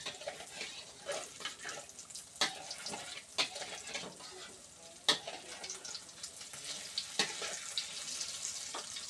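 Eggs and chili peppers frying in hot oil in a home kitchen: continuous sizzling and spattering with scattered sharp pops and scraping stirs throughout, fairly close and steady, with no voices.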